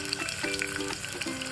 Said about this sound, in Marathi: कांदा चिरलेला घालूया